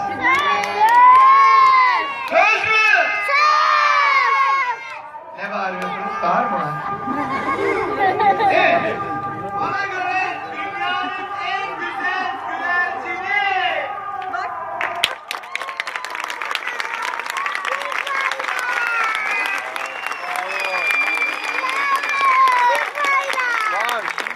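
A children's audience at a Ramadan entertainment show featuring illusion tricks erupts into loud, sustained cheering, shouting and applause, with a dense crowd roar filling the second half over scattered voices.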